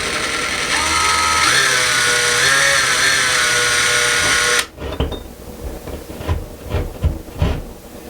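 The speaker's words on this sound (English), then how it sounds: "We're going to drill very easily in here, not too hard." A power drill whines steadily at high speed for several seconds as it drills into a wall, catching the corner of a stud, then stops, followed by scattered knocks and scraping thumps.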